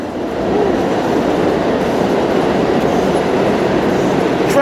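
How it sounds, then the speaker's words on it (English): A train rumbles past close by, a loud steady roar of wheels on rails holding throughout with faint clatter underneath. "Train going by, train going by."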